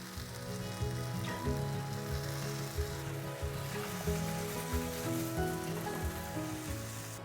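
Ramen noodles and bean sprouts sauté in a pan for a tomato ramen stir-fry, giving a steady, even sizzle that runs the whole time beneath a layer of background music.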